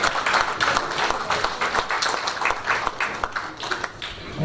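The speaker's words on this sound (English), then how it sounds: "Please give them a big round of applause" A seminar audience claps after a memento is presented at a risk management talk, with individual hand claps distinct and uneven, swelling and thinning over several seconds.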